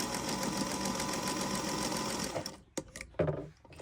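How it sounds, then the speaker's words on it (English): A sewing machine stitches rows of fabric scrap quilt blocks, whirring steadily and close for about two and a half seconds before stopping, followed by a few soft handling noises. "I'm going to go ahead and sew that"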